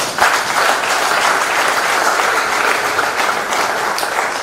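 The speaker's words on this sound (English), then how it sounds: "Can you please once again give him a round of applause?" Sustained applause from an audience honoring a professor after his lecture at an anniversary celebration, dense steady clapping throughout at a loud, even level.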